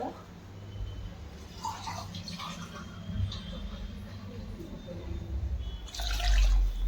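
Water runs and splashes steadily into a pressure cooker of vegetables for pav bhaji, close up, with a faint voice in the background.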